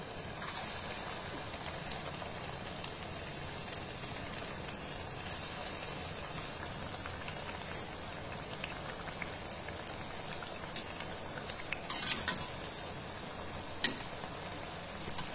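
Potato slices frying in hot oil over a low flame, a continuous fine crackle and patter like light rain, faint and even throughout with a few sharper pops near the end, no voices.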